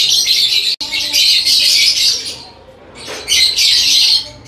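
A pair of green opaline lovebirds call loudly and close by in shrill, rapid chattering squawks, with a brief break and then a pause before the calls resume.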